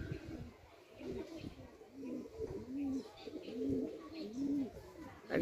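A pair of Madrasi pigeons, male and female, coo in a steady run of soft, repeated low calls, close by, with someone talking quietly now and then between the calls.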